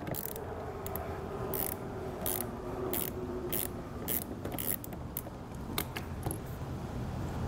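A 10mm wrench works a nut loose on a 2018 Jeep JK, producing a series of quick metallic ratcheting clicks in short irregular bursts, close and moderately quiet.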